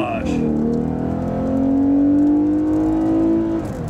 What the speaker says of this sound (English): I'll be able to give you a small impression of the acceleration here.